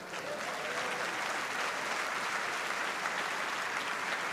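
Congregation at a church event breaks into steady, full applause, a dense wash of many hands clapping continuously at moderate volume without talk.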